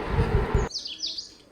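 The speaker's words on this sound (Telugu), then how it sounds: "పిట్టల సౌండ్ భలే ఉంటుంది అనమాట" A short burst of noisy rustling gives way to a couple of quick, high bird chirps in a garden in the morning, fairly clear against a quiet background.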